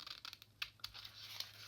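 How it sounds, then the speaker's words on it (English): Scissors cutting out rubber stamps mounted on wood blocks, a series of quiet, sharp snips and crinkly slices spaced irregularly, close up and faint. "And now I'm just going to use my scissors"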